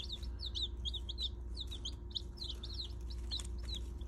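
Baby Easter Egger chicks peep in rapid, high, repeated chirps, close and lively over a low steady hum, with no talking.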